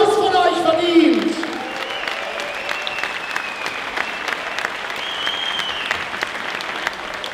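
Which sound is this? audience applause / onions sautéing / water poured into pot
audience applause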